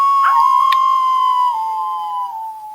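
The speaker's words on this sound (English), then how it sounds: "Werewolves like to howl." A werewolf in the film Species lets out a single long, loud howl that slides slowly downward in pitch and fades at the end, heard alone without talk.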